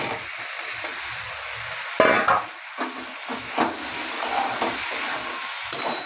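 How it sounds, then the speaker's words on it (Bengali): Fried potato and banana stem pieces added to a hot pan with pointed gourd and ridge gourd, giving a continuous loud sizzle with a sharp surge and intermittent stirring scrapes. "যে এর মধ্যে আলু আর থোড় ভাজাগুলো দিই।"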